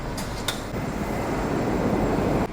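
Metro train at a station in Russia, a steady broad rumble of rolling carriages with a couple of brief high squeals near the start, continuous and fairly close, no talking.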